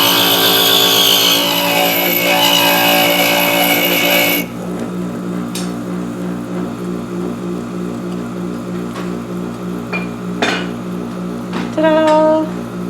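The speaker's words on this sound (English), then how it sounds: "Maybe I better turn the grinder off." A glass grinder runs loud and steady for about four seconds, then cuts out to a low hum with a few scattered clicks and knocks.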